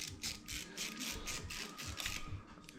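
A part on the ignition of a 150cc dirt bike is being unscrewed, producing a quiet, steady run of rapid ratcheting clicks close by, with no voices.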